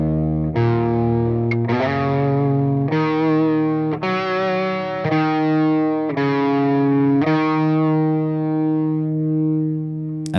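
Distorted electric guitar played through a Line 6 Helix, sustained chords each struck and held for about a second, with a slow swirling stereo modulation shifting the tone throughout.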